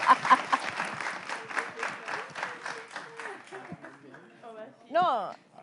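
Studio audience clapping for an arriving guest on a French-language show, applause fading out over a few seconds before voices and a brief whoop take over.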